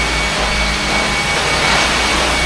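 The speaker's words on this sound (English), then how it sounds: "Okay, I got a leaf blower going, help push some of that exhaust out." A leaf blower runs in a big basement to push out exhaust, a loud, steady roaring whoosh with a low rumbling drone underneath, continuous and close throughout.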